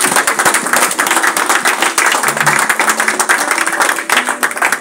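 Congregation clapping continuously at a New Year's overnight prayer service, dense steady applause filling the room with a rapid irregular patter, loud and close throughout.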